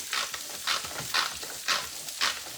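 Boneless pork chops sizzle in a frying pan, close and loud, with the frying noise swelling in regular bursts about every half second, as if stirred or shifted, and no talking.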